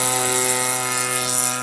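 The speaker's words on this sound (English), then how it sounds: "as the plane taxis out" A giant scale RC Fokker Dr.1 triplane, a WWI warbird replica, drones steadily as its engine runs while taxiing, a loud continuous buzz with no talk.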